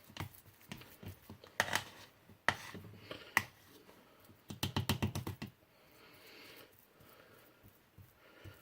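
Keto carb bread is broken up by hand close by, giving a few sharp cracks and a quick burst of rapid crumbling snaps, then quieter rustling, with no voices.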